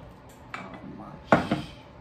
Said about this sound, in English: Got my ice cream scoop here. I'm gonna fill my pan.